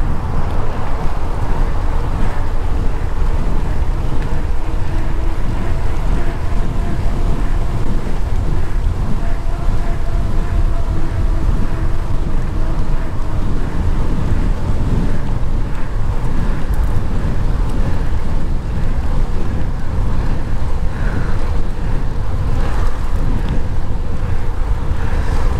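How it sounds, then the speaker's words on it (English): Strong wind buffeting the microphone on a steep creek trail, a loud continuous roaring rumble that never lets up, with faint murmurs of a voice underneath. "It's windy though."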